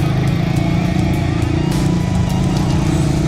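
A fuel-injected Honda CRF110 pit bike engine runs close up while being ridden on dirt, giving a loud, steady buzzing drone with constant revs throughout.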